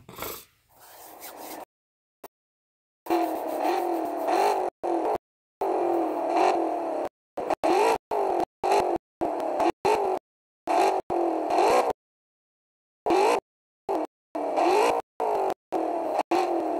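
Video game car engine revving in CSR Racing 2: loud, droning engine tones rising and falling in pitch, chopped into repeated bursts with abrupt silent gaps between them.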